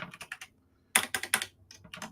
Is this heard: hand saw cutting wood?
no